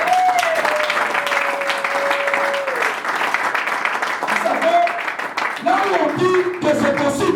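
A church congregation applauds steadily and loudly throughout, with a voice singing or calling out over the clapping.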